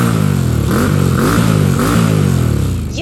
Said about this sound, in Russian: Родной звук тут не такой глубокий и бархатистый, какой бы хотелось видеть у мотоцикла такого вида